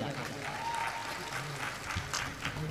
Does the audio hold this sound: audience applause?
yes